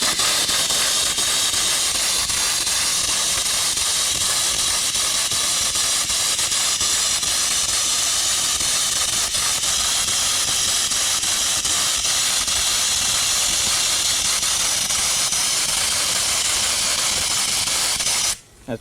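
Sandblaster blasting abrasive media with compressed air, a loud steady hissing spray that runs continuously and cuts off abruptly at the very end.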